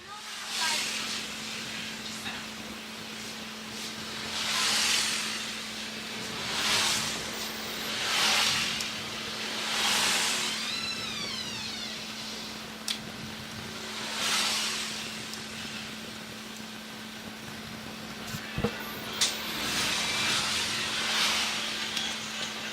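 Race cars circle an oval racetrack during a 15-lap event, their engines swelling and fading in repeated distant passes under a steady electrical hum, while a commentator talks over the field.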